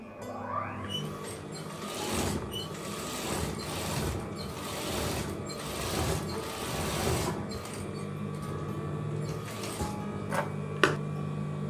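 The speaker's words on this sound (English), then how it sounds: "I'm going to stitch this lining first." A sewing machine stitches the lining of a washable fabric face mask, giving a steady, close mechanical whirring and rattling with slight surges in speed and a brief click near the end.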